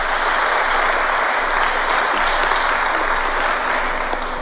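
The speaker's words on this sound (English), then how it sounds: "Kindly just give them a round of applause," Mourners give a sustained round of applause at a funeral gathering, with dense, even clapping that stays loud and continuous throughout.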